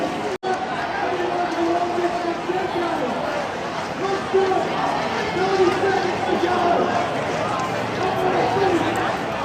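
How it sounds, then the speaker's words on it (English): A large crowd fills the stadium before a Tassie Devils home game, a dense continuous roar of chatter and shouting with some voices rising above the din and a few tonal calls, loud and steady throughout. "listen in to the crowd for the next couple of minutes"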